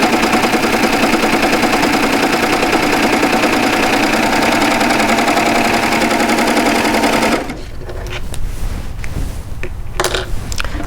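A serger sews piping into a fabric seam, its fast steady mechanical whirr running close and loud for about seven seconds before stopping abruptly, leaving faint handling noises.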